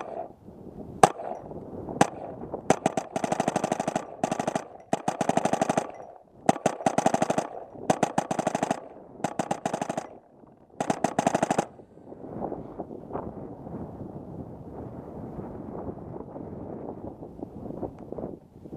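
Frankenstein Shocker Sport toy gun firing its electronic machine-gun effect in loud rapid bursts separated by short gaps, then fading into a lower buzzing hiss for the last several seconds.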